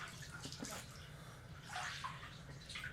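Bathwater sloshing and splashing in a tub during a film scene, a steady wet wash with brief louder swells, set against a low background hum.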